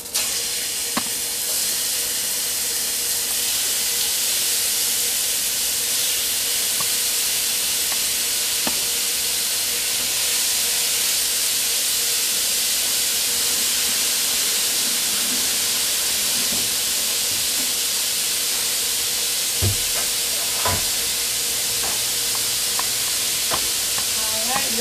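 Chicken pieces sizzle steadily in a hot oil-coated pot on a stovetop burner, a dense continuous frying hiss with occasional sharper pops and crackles, close and loud throughout with no talking.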